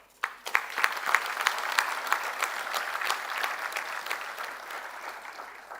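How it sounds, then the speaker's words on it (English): Audience at a university convocation ceremony for BBA management and marketing graduates bursts into sustained applause, a dense, steady patter of many hands clapping that swells quickly and holds through to the end. "applaud the efforts of the students and proud parents for the journey of success so far"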